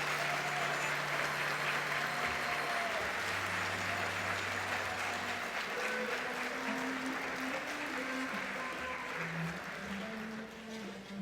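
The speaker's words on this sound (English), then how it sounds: "Let's give them a round of applause to show our appreciation for everything they've done for us." Sustained applause fills a senior class banquet hall for about eleven seconds, a dense steady wash of many hands clapping at moderate distance, with faint tones and voices murmuring underneath before it begins to taper at the end.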